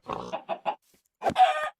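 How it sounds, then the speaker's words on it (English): Pigs and chickens in Minecraft with the Mappet mod: a few short clucks in a quick rhythm, then a pause and a longer grunting squeal, loud and close with no talk. "here I'm gonna spawn 2 pigs and chicken"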